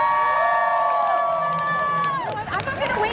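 Large crowd at a New York Comic Con panel shrieking and cheering, high whoops and screams layered over each other, swelling into a rowdy burst of shouts near the end.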